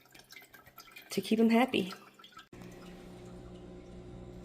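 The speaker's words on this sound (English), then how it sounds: "I'm going to give it some water and some nutrients" Water mixed with nutrients is poured into an indoor hydroponic salad garden, a steady liquid rush that follows a person speaking and then continues evenly on its own.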